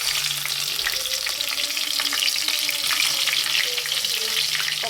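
Green chillies frying in a hot pan with stirring, a loud, continuous close sizzle and crackle with faint spatula scrapes running through it.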